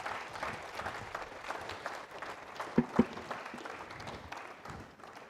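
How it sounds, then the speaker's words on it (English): An audience at an annual alumni banquet applauds, a steady wash of clapping from a crowd throughout, with a couple of sharper nearby claps standing out partway through. "A big round of applause for Wilton Mina Beaverette"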